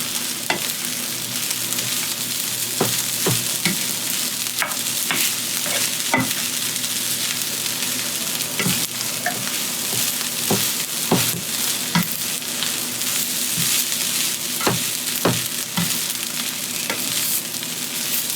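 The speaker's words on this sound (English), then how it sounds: "Keep stir frying it." Beef fried rice sizzles and crackles in a hot pan while a utensil scrapes and clanks repeatedly against the metal, with no talking.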